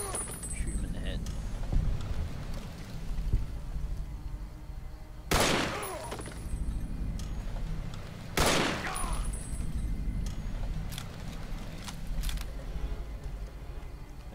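Gunfire against powder gangers in Fallout: New Vegas, with two loud broadband shots about three seconds apart over a steady game ambience and low background rumble.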